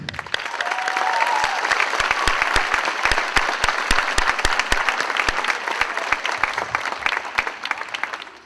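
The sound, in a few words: applause for graduates at a graduation ceremony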